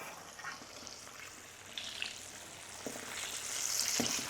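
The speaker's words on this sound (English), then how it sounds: "So we're gonna deep fry this on high heat for about 5 minutes now" Soft sizzling and bubbling of chicken deep frying in hot oil on high heat, with occasional clinks and stirring noises, fairly quiet and close.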